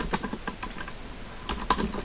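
A computer keyboard types an email address in quick, irregular bursts of soft, close keystrokes with a short pause partway through.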